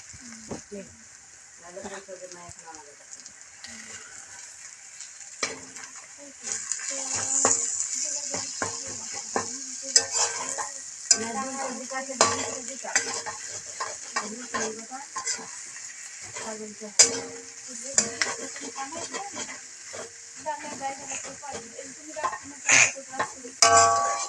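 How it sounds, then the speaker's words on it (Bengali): Egg fries in a pan and is stirred, with a sizzle running under frequent scraping and tapping of a utensil that grows busier partway through, while a voice talks now and then. "এখন আমরা ডিমটা নাড়িয়ে নিব।"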